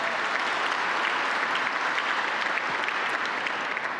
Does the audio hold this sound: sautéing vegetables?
no